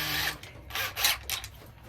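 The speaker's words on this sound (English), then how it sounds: "I'm going to put it in the drill and do it with the drill" A power drill spins a woodturning tool against a sharpening setup, giving bursts of broadband grinding and rasping that rise and fall in uneven pulses over a low steady hum, fairly close.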